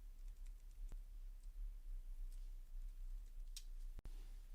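Quiet keyboard typing while entering a custom zoom range in chart software, a few sparse soft key taps and one sharper click near the end, close and faint over low background hum.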